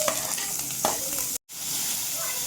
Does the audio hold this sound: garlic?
yes